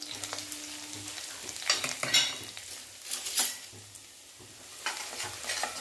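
Ground coconut paste hits a hot pan with curry leaves and sizzles loudly while a utensil stirs and scrapes through it in uneven bursts, with close metallic clinks.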